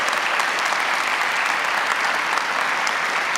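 Dense, steady applause from a church congregation at a sermon fills the whole stretch, loud and continuous with no talk over it.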